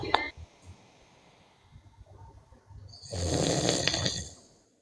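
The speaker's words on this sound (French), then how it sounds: "On va enregistrer le ronflement des sages pour faire notre sonnerie." Snoring from a sleeping person: a faint snort at the start, then a loud, rasping snore swelling in the second half and trailing off, with no one talking.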